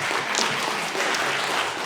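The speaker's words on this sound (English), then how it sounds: "Massive round of applause for all of you for coming." Audience applause at a community celebration marking 50 years of the Somali language, a steady, dense wash of clapping filling the room throughout, close and fairly loud with no voices standing out.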